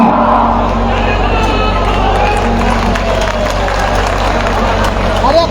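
A large crowd at an outdoor political rally, a dense continuous roar of cheering and shouting that stays loud throughout, with talk mixed into the din.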